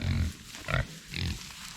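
Pigs grunt and snuffle in short bursts, close by, with soft rustling and munching as they feed on a hay bale outdoors in winter.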